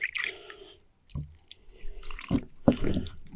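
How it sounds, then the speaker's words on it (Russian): A little water poured into a bowl of batter in short splashing bursts, with drips and clinks nearby, loud and close, stopping and starting. "Немножечко добавляем воды."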